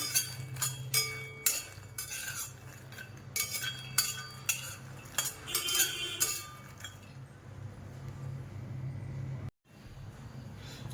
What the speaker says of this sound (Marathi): मखाना चांगला रोस्ट करून घ्यायचा चांगला